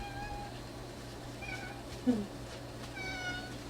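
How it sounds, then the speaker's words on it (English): A cat meows several times in short calls, moderately near, over a steady low hum with faint background noise. "There's your new kitty, Jeffrey."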